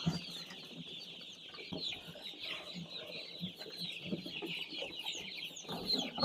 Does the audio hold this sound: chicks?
yes